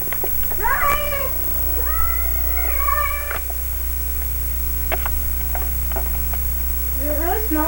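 A cat meows repeatedly in short rising and falling calls, several spaced out through the stretch and a final burst near the end, heard close over a constant electrical hum without talk.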